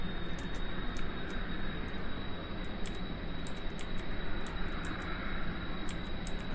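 A plane engine in the Kerbal Space Program video game holds a steady, loud roar at full throttle on the runway, with faint clicks scattered over the continuous drone.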